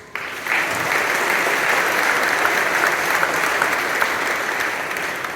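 Sustained audience applause at a high school graduation ceremony, steady and loud, carrying on evenly for several seconds without a voice over it.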